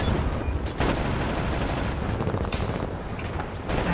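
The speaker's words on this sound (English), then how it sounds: "It's a machine gun." Rapid bursts of machine gun fire in the shooter game Wolfenstein: The New Order, loud and continuous with a few sharper heavy blasts mixed in, no talk over it.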